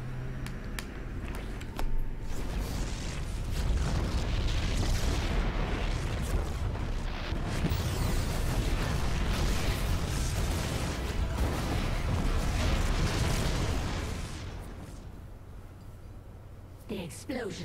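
A sustained roar of heavy, rumbling explosions with booming impacts from the video game StarCraft II: Heart of the Swarm, loud and continuous, then fading at the end as a voice cuts in.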